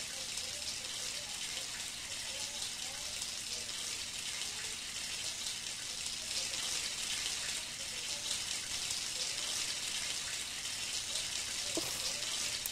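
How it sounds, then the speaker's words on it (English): A steady hiss of running shower water in a Roblox Welcome to Bloxburg house, constant and even from start to finish, with a brief faint tap near the end. "I'm going to take a quick shower"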